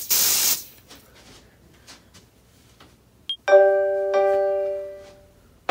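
A can of smoke spray hisses in one short, loud burst aimed at a Nest Protect smoke alarm, followed by quiet and then a bright electronic chime from the alarm.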